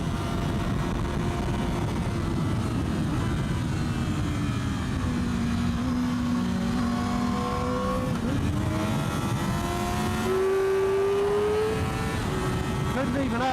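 A 600cc superbike pulls away uphill on a Spanish road, its engine note climbing in long rising sweeps over a constant rush of wind and road noise.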